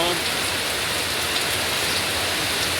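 Rain pours steadily over an open-air market, a dense, even hiss of drops on surfaces that stays constant throughout, with no clear voices.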